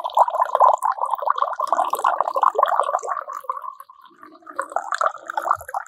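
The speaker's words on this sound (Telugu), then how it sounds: "అదిగో అదిగో నీళ్ళు వచ్చేస్తున్నాయి." Water trickles in an uneven, bubbling stream into a glass, close and fairly clear, with the flow thinning briefly before picking up again near the end.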